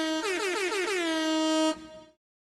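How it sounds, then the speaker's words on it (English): An air horn from a soundboard blares as one long, loud, steady blast for under two seconds, then cuts off and quickly dies to silence. "All I have right now is an air horn."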